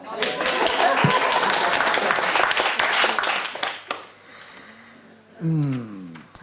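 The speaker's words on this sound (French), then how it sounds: "On va l'applaudir parce que quand même" An audience at a reading marathon claps for several seconds in a dense burst of applause that dies away, followed by a quiet room and brief speech.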